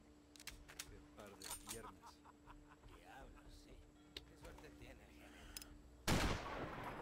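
Sniper rifle gunshot in the video game Sniper Ghost Warrior, a single loud, sharp blast near the end that follows quieter clicks and background game sounds.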